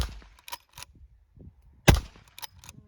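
Rossi 92 lever-action rifle fired outdoors at clay targets, with a few sharp cracks spaced apart and one loud close shot standing out among fainter pops.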